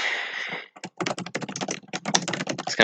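Fast typing on a computer keyboard in a cold room, a dense run of close, crisp key clicks in quick bursts after a brief hiss, with no talking.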